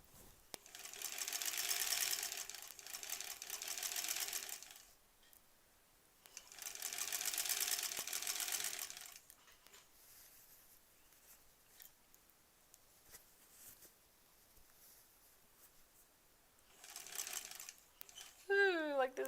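A sewing machine stitching the last seam of a granny squares quilt runs in two steady bursts of a few seconds each, then quiet handling, a third short burst and some clatter near the end.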